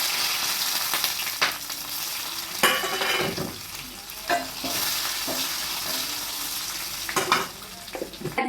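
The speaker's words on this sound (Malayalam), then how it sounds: "എണ്ണ ഇവിടെ ചൂടായിട്ടുണ്ട് അതിലേക്ക് നമ്മൾ കടു ഇട്ട് കൊടുക്കുക" Mustard seeds crackle and sizzle in hot oil for a green peas curry, a steady frying hiss punctuated by sharp popping bursts and occasional stirring clatter, close and with no talk.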